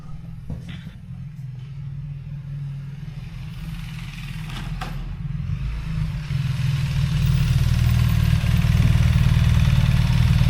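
A BMW boxer twin motorcycle engine with a JB Weld-patched cylinder head runs steadily at idle close by, a low throbbing drone with some mechanical clatter that grows slightly louder and fuller toward the end.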